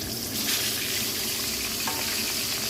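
Mackerel frying in a pan, a steady, close crackling sizzle with soft bubbling, moderately quiet and continuous.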